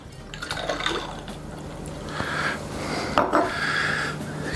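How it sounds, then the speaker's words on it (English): Cranberry juice and orange juice poured into a cocktail glass to fill it up, a steady close splashing flow with brief surges, with no talking. "it's really just filling it up with some juice"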